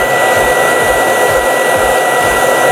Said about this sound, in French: quand je clique sur Automax, que vous entendez, voilà, l'aspirateur marche en mode maximum